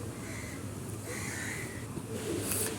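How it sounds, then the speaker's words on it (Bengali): A pair of teddy pigeons coos softly against steady background noise, with low calls and faint chatter from other birds around them. "এই এক জোড়া আছে টেডি কবুতর"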